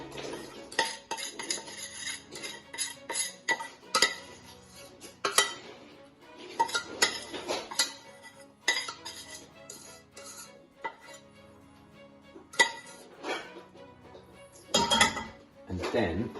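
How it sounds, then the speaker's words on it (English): A metal spoon scrapes and clinks against a dish while pressing a Rocky Road mixture down into the corners, with repeated close, irregular knocks and scrapes. "just with the spoon, just push it right into the corners of the dish, pressing it down as flat as you can"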